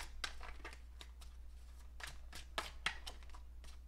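Tarot cards are shuffled close by, with soft papery riffles and slaps in quick uneven bursts over a steady low hum, with no talk.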